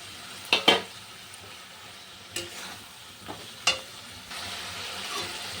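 Spices, cauliflower and potato being sautéed in a pan, with a soft steady sizzle broken by a few scattered utensil clinks and scrapes, close but fairly quiet, no voices.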